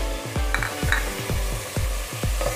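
Finely chopped large tomato sautés with masala over high heat for chicken pulao, a close, bright sizzle punctuated by rhythmic spatula knocks and scrapes against the pan roughly every half second.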